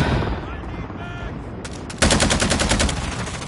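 A video game gun opens up in a fast, loud machine-gun burst of evenly spaced sharp shots after a quieter stretch with some faint voice-like tones and background noise.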